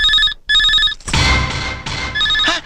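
A telephone ringtone rings in two loud electronic bursts, then a short stretch of comedy-scene clatter and music follows before the ring returns briefly at the end.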